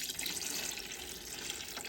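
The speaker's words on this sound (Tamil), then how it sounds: "தண்ணி ஊற்றலாம்." About 800 ml of water is poured into a pot of homemade dum chicken biryani, a soft, steady splashing and trickling heard close by with no speech.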